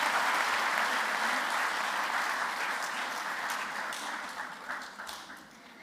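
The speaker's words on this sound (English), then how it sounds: "A round of applause for Kumari Branavi Aruratnam Garu." An audience at an evening music event applauds a speaker, a full round of clapping that starts strong and gradually thins and fades out.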